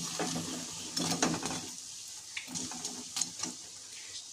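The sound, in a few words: snacks frying in hot oil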